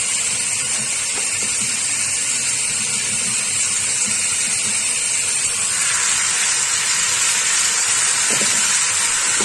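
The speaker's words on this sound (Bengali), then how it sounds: "টমেটোটাকেও ভালো করে ভেজে নেবো যাতে নরম হয়ে যায়।" Tomatoes frying in a pan for Bengali egg curry, a continuous loud hiss and sizzle that stays steady throughout, close by, with no talking.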